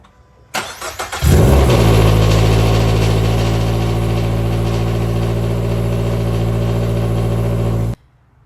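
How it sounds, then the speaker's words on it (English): A 2025 Subaru BRZ with an FA24 engine and a catted unequal-length header cranks and fires, then settles into a loud, deep, steady idle close by, lumpy and rumbling, before cutting off abruptly. "we definitely made a difference in sound using the unequal length header for this thing"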